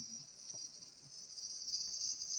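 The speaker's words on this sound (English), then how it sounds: "I can hear the cicadas." Cicadas chirping in a garden of perennial fruit trees in Ishikawa, a steady high-pitched buzzing drone that runs throughout, faint and distant, over light outdoor background noise.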